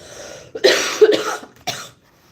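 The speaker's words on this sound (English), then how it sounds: "I'm sorry that I'm coughing" Several harsh coughs in quick succession, close and loud, with a brief pause before a final cough.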